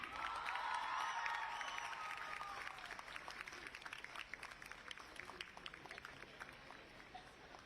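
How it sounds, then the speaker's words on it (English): Sustained applause from a large crowd at a fashion institute graduation ceremony, loud at first and gradually thinning into scattered claps, with a faint cheer early on. "Please give a big round of applause for Khyati Rishi"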